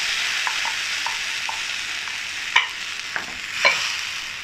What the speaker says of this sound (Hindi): वो हम इसमें अब प्यूरी डाल देंगे।